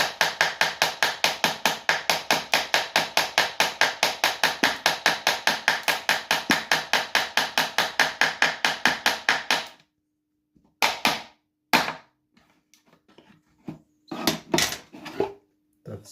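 A hammer tapping RC boat hull parts together during assembly of a Magura V7 model boat: a long fast steady run of sharp close knocks, then a pause followed by a few scattered taps and handling clatter.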